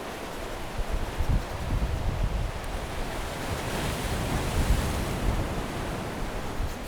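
Ocean waves rolling in below St Michael's Mount in Cornwall, a broad continuous surf roar that swells and ebbs, heard outdoors with wind buffeting the microphone and no talking.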